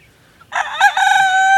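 A backyard rooster crows loudly and close by after a brief quiet moment, one long drawn-out call that holds to the end.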